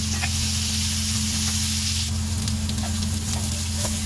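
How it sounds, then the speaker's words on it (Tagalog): Potatoes being half-cooked in a pan give a steady, close sizzle and frying crackle with a constant low hum underneath, continuous throughout with no talking. "Fry pa natin konti. For a bit. Fry a little bit."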